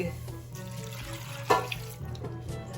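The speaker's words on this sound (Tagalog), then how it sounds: "So, lalagyan ko po yan ng tubig." Water from a tap pouring into a pan to boil cassava, a steady splashing stream with one sharper clink of the pan partway through, close in a kitchen.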